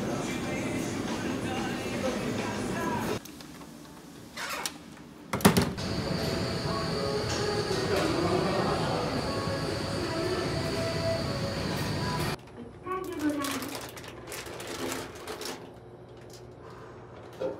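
Steady rumble and rolling clatter of a train in Kyoto, Japan, loud and continuous with brief drops, a faint tonal whine and occasional knocks.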